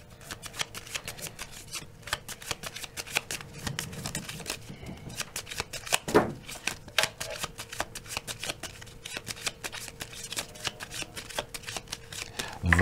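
A deck of cards is shuffled and cut during a fortune-telling card reading, giving a dense run of quick, crisp riffling clicks and flicks close up, with a few louder snaps, steady for the whole stretch with no talking.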